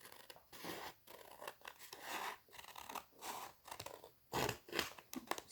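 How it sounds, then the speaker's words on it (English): Scissors snip through paper for a junk journal page in a quiet room, a steady series of short crisp cuts with brief pauses between them. "width-wise, I am going to cut a little bit off of each side."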